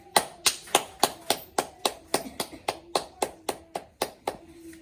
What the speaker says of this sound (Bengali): তাহলে হাততালি হয়ে যায়